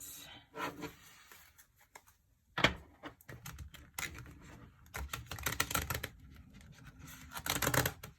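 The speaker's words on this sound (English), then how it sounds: "This deck is really difficult to shuffle, so you'll have to excuse me while I fight with it" Cards riffle and flutter in several bursts of shuffling, close and crisp, separated by brief pauses and soft handling taps.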